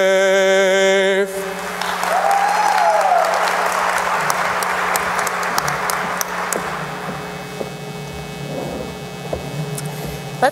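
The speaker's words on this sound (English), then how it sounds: "Let's give Caleb another round of applause" An audience at a summit opening session breaks into applause for a young singer after the national anthem, a broad sustained clapping that rises after the last sung note, then slowly thins with a few whoops and a low hum underneath.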